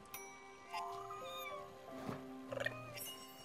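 A person imitates a cat's meow in a few short, rising vocal cries over quiet game background audio from Spiritfarer on PC.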